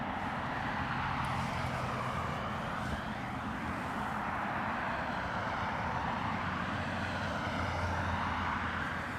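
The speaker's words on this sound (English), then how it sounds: "We have a Ryanair from Kerry on approach." A Ryanair airliner from Kerry on approach to Dublin Airport in a crosswind produces a continuous, broad engine roar. It holds steady and fairly loud throughout, with a slowly shifting whine over it and no speech.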